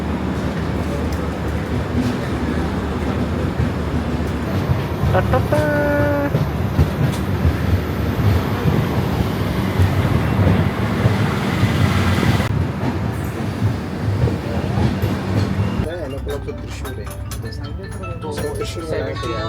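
A Bangalore-bound train pulls away and rumbles along with a steady rolling clatter, some brief squeals near the start, and people talking faintly nearby.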